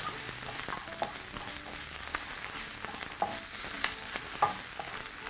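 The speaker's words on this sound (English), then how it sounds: "So continue to fry that in your pan" Bacon fries in a pan with a continuous bright sizzle, dotted with sharp crackles and occasional stirring scrapes, close and fairly loud.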